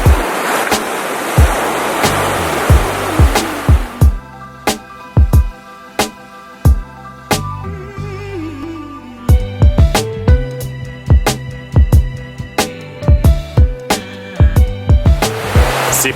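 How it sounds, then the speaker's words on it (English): Ocean surf washes steadily at Zipolite beach in Mexico for the first few seconds. Loud plucked, melodic music then takes over, and the surf returns briefly at the end. "the sea breeze and the storm sounds of the ocean"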